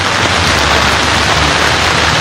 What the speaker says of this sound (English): Today is another rainy day.